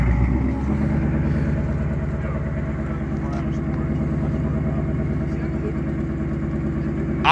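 A cammed 2018 Mustang GT V8 idles steadily with a loud, continuous low rumble and lopey pulsing, close by and alone, with a brief bump in level at the very end.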